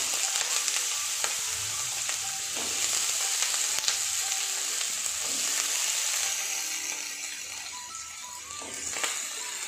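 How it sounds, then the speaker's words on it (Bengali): Potato pieces frying in hot oil in a home kitchen for a Bengali aloo posto, a continuous bright sizzle with occasional stirring clatter and utensil scrapes, close and steady throughout. "এবার আমি এই আলুগুলোকে ভেজে নেব।"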